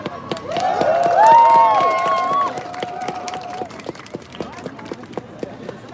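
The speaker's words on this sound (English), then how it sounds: "Give her a very big applause" Crowd applause and cheering for a speaker at a Sudan protest in Amsterdam, a dense spread of claps with raised voices and whoops that swell early and then thin out.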